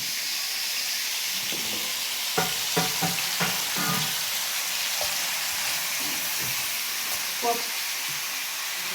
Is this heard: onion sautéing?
yes